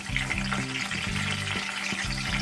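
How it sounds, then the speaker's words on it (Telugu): Whole eggplants sizzle and spatter steadily in hot oil in a pan for gutti vankaya curry, a close, continuous frying hiss with low stove hum underneath. "నూనె తగిన తర్వాత మనం వంకాయలు వేసుకొని వేసుకున్నాం"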